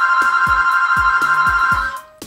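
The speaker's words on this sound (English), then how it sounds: "If my phone rang out of nowhere" A phone rings with a bright, steady electronic ringtone that pulses rhythmically for about two seconds before stopping abruptly, loud and close with no talking.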